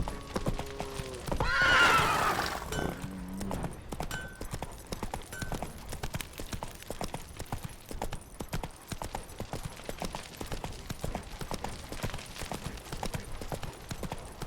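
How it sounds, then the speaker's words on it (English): In The Witcher 3, a horse gallops with continuous rhythmic clip-clop hooves and lets out a loud neigh near the start, with game ambience behind it. "Run, Roach"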